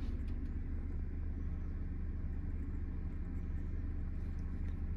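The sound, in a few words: car engine during driving lesson, clutch being released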